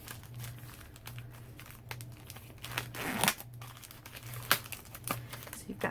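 A plastic bag from a Stampin' Up! Paper Pumpkin card kit is pulled open, with close, quiet crinkling and a few sharper rustles and tears over several seconds.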